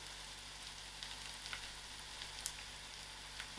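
Onions, curry leaves, ginger and garlic fry in a pan for aloo gobi, a quiet, steady crackling sizzle with occasional sharper pops and no talking.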